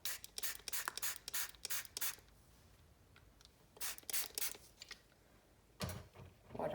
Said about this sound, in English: water mine down with the spray bottle